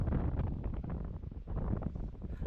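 Strong outdoor wind buffets the microphone in a continuous, rough roar that never lets up for the whole stretch, swamping everything else.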